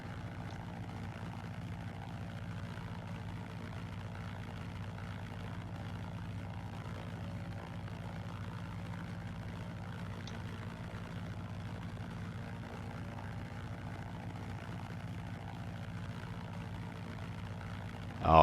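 DHC-2 Beaver radial propeller engine in a flight simulator, a steady droning hum running unbroken and fairly quiet throughout, with no one talking.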